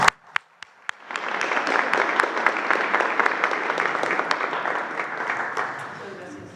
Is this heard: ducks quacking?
no